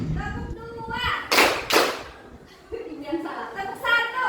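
Children in a classroom clapping game strike a few sharp, bright claps in quick bursts, close by, with a teacher's voice talking between them.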